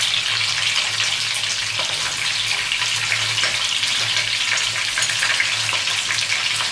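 Chicken pieces, leg and breast, frying in a kadai for Bengali-style kadai chicken, giving a steady, dense sizzle that holds evenly throughout with no talk.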